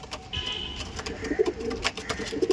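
A male Madrasi pigeon gives repeated aggressive cooing calls at close range, low throaty bursts in an uneven rhythm among other loft birds.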